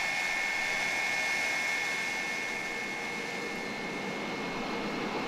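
An F-86 Sabre's single powerful jet engine in the FSX flight simulator roars as a loud, steady broadband whine with a high tonal edge, continuous throughout with no talking.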